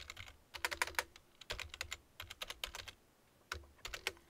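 Keys clatter on a computer keyboard in uneven bursts of close, crisp clicks with short pauses between, in a quiet room with no talking.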